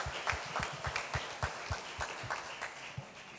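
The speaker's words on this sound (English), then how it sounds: "A big round of applause for Rotarian Saravanan for doing this." Faint, sparse applause at a Rotary governor's official visit, a small group clapping in a loose, steady patter with distinct individual claps at a distance.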